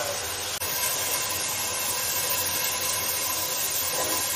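Chicken pieces fry and spatter in a hot pan, a steady, even sizzling hiss at moderate volume with a single faint pop early on, no voices.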